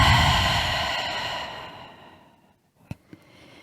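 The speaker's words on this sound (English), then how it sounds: "And then exhale, breath from your mouth." A single long, soft exhale through the mouth during a guided meditation, close and breathy, fading over about two seconds into near silence, followed by a couple of faint small clicks.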